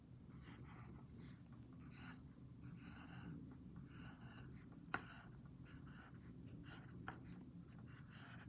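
Pencil writing words on paper in a classroom, soft rhythmic scratching strokes in short bursts with brief pauses, quiet and close over a low room hum.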